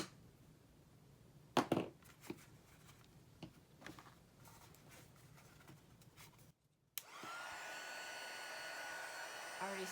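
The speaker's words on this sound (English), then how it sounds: "Just need a heat tool and preferably something to pry with" Handling clatter and taps, then a heat tool switches on and blows a steady, even whoosh for the last few seconds while warming the gold foil spine of a Little Golden Book.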